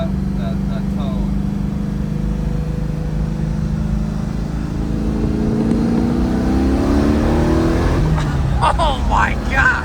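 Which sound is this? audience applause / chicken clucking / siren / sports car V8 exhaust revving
sports car V8 exhaust revving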